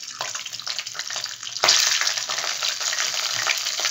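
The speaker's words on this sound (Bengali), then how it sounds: "এই তেলের মধ্যে আমি একটুখানি সর্ষে বা মাস্টার্ড সিড এটা দিয়ে দিলাম" Mustard seeds are dropped into hot oil left over from frying fish, setting off a loud, steady sizzle that jumps louder partway through, with faint stirring underneath.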